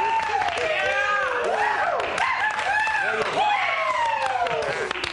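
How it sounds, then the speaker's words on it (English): A studio audience claps and cheers continuously for two contestants who won the block, under loud excited talk and whooping from the room. "A big round of applause for the lads"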